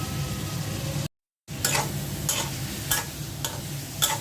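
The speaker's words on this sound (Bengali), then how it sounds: "মশলাটা ভালো করে মিক্স করে নিচ্ছি" Prawns with spices and salt stirring and frying in a pan: a steady sizzle broken by a brief dropout, with regular scraping strokes of a spoon against the pan.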